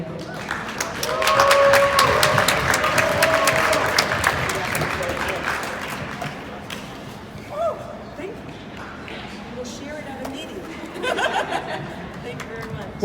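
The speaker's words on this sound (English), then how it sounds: "One more round of applause real quick for Image Magia." A crowd at a cup pong event claps and cheers, loudest early on, then tapers into scattered clapping with chatter and some laughter underneath.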